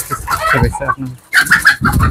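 Young farm chickens on a poultry farm, clucking and cheeping in short bursts close by, with a brief quiet gap partway through.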